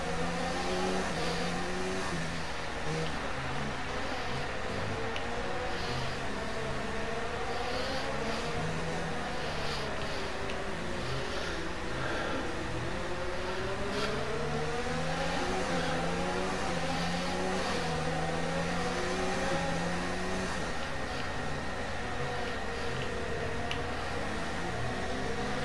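A Formula 1 race car engine in an F1 video game at the Singapore Grand Prix drones continuously, its pitch rising and falling through gear changes and speed shifts, steady and loud for the whole stretch with no talk.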